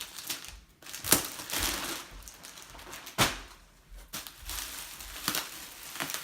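Packing tape is pulled and peeled off the cardboard box of a 1993 Macintosh TV, giving several sharp ripping and crinkling bursts between softer rustling handling noises, close by and with no talking.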